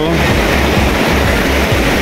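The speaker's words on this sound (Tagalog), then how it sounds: "Lumalakas lalo alon" Steady, roaring surf fills the clip, with waves churning and washing continuously close by; a low rumble runs beneath the broadband noise.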